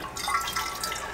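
A brief, soft trickle of drinking water running from a rainwater dispenser, a light splashing stream with no talk.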